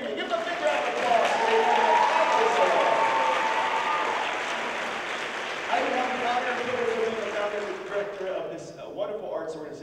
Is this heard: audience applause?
yes